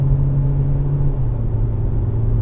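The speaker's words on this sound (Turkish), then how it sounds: "Tamam yüzde tekrar gaz yaptım. Dip gaz yaptım." A BMW 420d coupe's diesel engine pulls hard at full throttle up a hill, a steady, close, droning rumble from inside the cabin with no voices over it.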